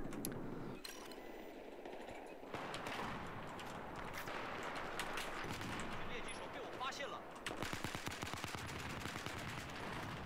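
Gunfire in a Battlefield match on the Dawnbreaker map, Conquest-style play, with repeated rapid shots and bursts throughout, the densest volleys near the end, mixed with game ambience and a commentator's voice.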